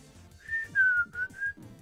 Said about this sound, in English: Whistle as it cleans.